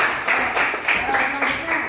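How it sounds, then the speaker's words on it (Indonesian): A classroom group claps at the end of a student group's presentation during a teacher-training assessment. The clapping comes in brief uneven bursts and sounds fairly close. "Kita kasih tepuk tangan dulu."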